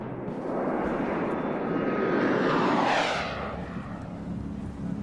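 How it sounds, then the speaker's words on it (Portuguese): Black military jets of a tactical command fly past, a broad roaring engine sound that swells to a loud peak around the middle and then recedes, steady and alone with no talking. "Os jatos negros do 37º Comando Tático foram rapidamente deslocados para o Oriente Médio."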